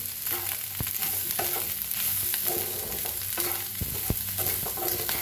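Spiced potato bhaji for fasting is stirred in a pan, with scraping spoon strokes and irregular clicks against the metal over a continuous sizzle, close and moderately loud, with no talk.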